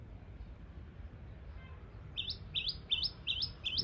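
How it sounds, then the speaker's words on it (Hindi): Small birds in a dense hill forest in the morning give a run of five quick, bright chirps that grow clearer near the end over a low background hush. "ये छोटी छोटी चिड़िया"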